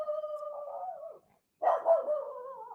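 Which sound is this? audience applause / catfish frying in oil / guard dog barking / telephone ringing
guard dog barking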